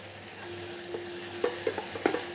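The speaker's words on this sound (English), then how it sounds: "we'll cook the onions till translucent stage" Onions frying in a pan toward translucence, a steady low sizzle running throughout with a few louder stirring scrapes and clinks of a utensil in the second half.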